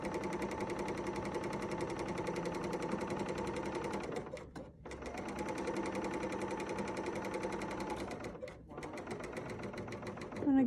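A serger overlocker runs steadily along the outside edge of a quilted mug rug, a loud, continuous mechanical whir with rapid stitching rhythm, briefly stopping twice before resuming.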